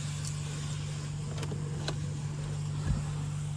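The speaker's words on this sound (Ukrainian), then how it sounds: "Холодний старт." A 2018 Volkswagen Tiguan with a 2.0 TDI diesel engine idles after a cold start. Its steady, low, droning hum holds evenly at close range with no voices.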